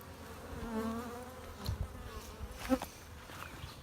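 Disturbed honey bees buzz around an opened backyard hive, a dense, steady drone rising and wavering up close as individual bees pass near.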